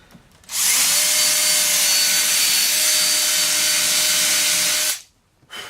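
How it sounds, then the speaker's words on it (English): A drill bit run sideways as a rasp through 2x4 softwood between drilled holes, a steady loud grinding whine lasting about four seconds, starting and stopping abruptly, with no talking. "And then you're kind of just using this bit as a rasp a little bit."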